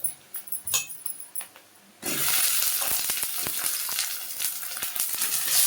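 Lightly salted chicken meat hits a hot pan and bursts into a loud, continuous sizzle after a few quiet clinks and handling sounds, with small pops and stirring scrapes throughout.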